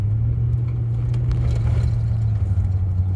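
A 2007 Lexus LX470 with Doug Thorley headers pulling onto an on-ramp, its engine a steady, heavy low drone with faint clatter and road noise heard from inside the cabin.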